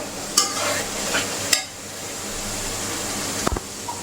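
Green chilies and spice paste sizzling in oil while a spoon scrapes and stirs through it, a steady fry hiss broken by a few sharp clinks and scrapes near the start, middle and end.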